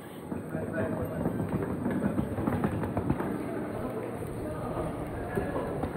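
Railway sounds at a station platform: a moderate rolling clatter and rumble of rail traffic continues throughout, with people talking faintly in the background.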